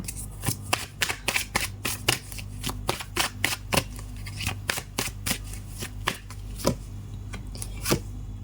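Oracle cards shuffled by hand during a tarot reading, a close, steady run of crisp riffling snaps and slaps repeating quickly for several seconds with no talking.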